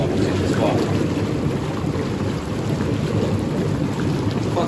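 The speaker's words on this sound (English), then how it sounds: "If I press it and hold it again, I can then increase the intensity of the bubbles in the spa." Hydropool hot tub jets churn the spa water in a steady, dense rush of bubbling and hissing that stays close and even throughout.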